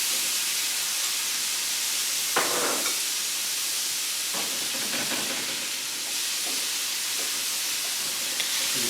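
Carnitas pork still greasy from the crock pot sizzles on a grill, a steady hiss with crackling bursts of rendering fat, close and alone.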